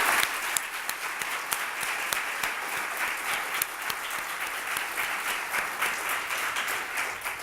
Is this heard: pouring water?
no